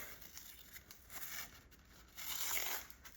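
Packing tape tears and crinkles as it is wound around a rolled tube of cardboard for a school craft project, with several bursts of scratchy ripping building to a louder stretch near the end, close up and with no talking.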